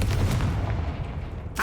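A Confringo spell from the video game Hogwarts Legacy bursts as a deep, booming blast filling the short stretch, followed by another sharp hit near the end.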